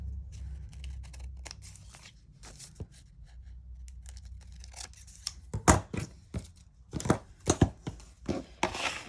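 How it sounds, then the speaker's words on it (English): Scissors trim the paper edges of a handmade junk journal, a series of close crisp snips and crunches that grow louder and quicker toward the end, over a low background hum. "And I'm going to trim the sides."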